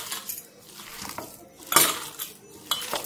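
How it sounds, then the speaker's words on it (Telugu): Chana dal and soya chunk vada batter being mixed by hand in a bowl, with intermittent clinks and scrapes against the bowl in an uneven rhythm, close and fairly quiet. "ఈ మిశ్రమాన్ని కూడా ఈ వడల మిశ్రమంలోని వేసి బాగా కలుపుకోవాలి"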